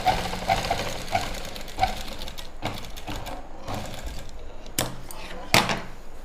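A sewing machine stitches lined pants in short, repeated bursts of close mechanical whirring, each run starting and stopping, with a couple of sharp clacks near the end.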